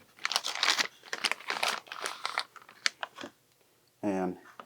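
Plastic packaging crinkles and tears around an Andis Gold Cordless Master hair clipper, close and bursty in several quick handfuls, ending with a brief hum-like tone.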